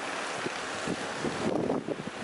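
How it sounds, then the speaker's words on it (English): Wind gusts buffet the microphone with a rough, steady low rumble and rushing noise outdoors during a blizzard with big snow drifts. "Still a bit windy out here too."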